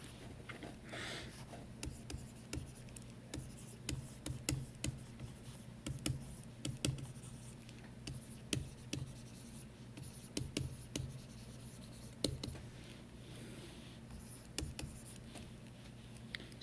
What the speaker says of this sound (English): if you see me making notes